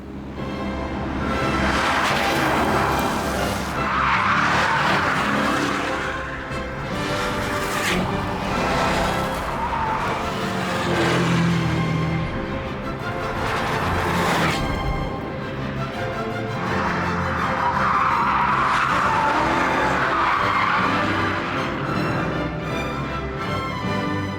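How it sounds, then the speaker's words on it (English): A brand new prototype Jaguar XKR sports car driving hard, its engine roaring loud and steady throughout with repeated surges and sustained high-pitched tire squeal as it skids, no talking over it. "here's me driving the brand new prototype Jaguar XKRR"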